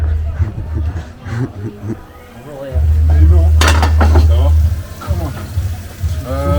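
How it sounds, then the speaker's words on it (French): Dishes being washed on a holiday in Ardèche: pots, pans and cutlery clink and clatter near and loud, with running water at moments and people talking throughout. "Ça me dit que vous faites la vaisselle là"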